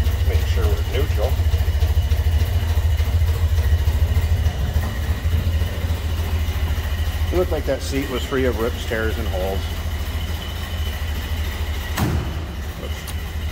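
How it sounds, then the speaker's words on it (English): Inline four-cylinder engine of a 1931 Ford Model A pickup idling with a steady low thrum close by, under continuous talking, with a brief sharp click near the end. "It sounds like you'd expect a Model A to sound. Those inline four cylinders definitely have a distinct sound."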